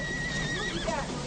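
A horse whinnies loudly in a rising and falling neigh, heard under overlapping talk.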